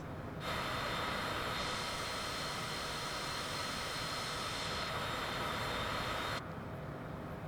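Loud, steady jet engine roar of a Cessna Citation in Microsoft Flight Simulator, a droning whine that holds constant for several seconds before cutting down abruptly.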